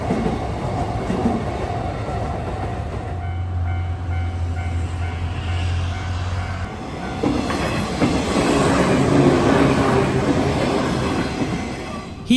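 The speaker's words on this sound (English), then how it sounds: "there are trains coming from both directions." Trains on the Eizan Electric Railway in Kyoto, Japan, rumble past with rolling rail clatter and a low mechanical drone, rising louder toward the end as another train approaches.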